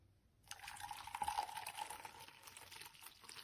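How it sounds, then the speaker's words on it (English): Coffee pouring steadily from a 34 oz 304 stainless steel French press into a cup, a quiet, close trickling stream that starts abruptly and keeps running with a slightly rising gurgle, heard alone. "now we'll pour my coffee in there"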